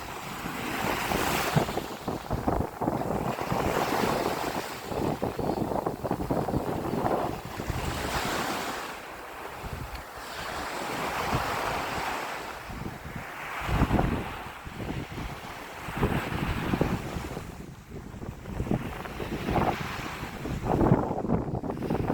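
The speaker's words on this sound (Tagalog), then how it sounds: "Sana wag nang lumakas ang alon." Ocean waves and wind at a beach roll continuously, with surges of surf rising and falling and heavy wind buffeting the microphone, loud and near, with no voices.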